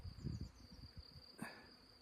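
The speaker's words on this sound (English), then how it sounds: "So our bees have swarmed today." A honey bee swarm hums faintly and steadily in a spring prairie setting, a soft continuous buzz in the background with a few low thumps nearby.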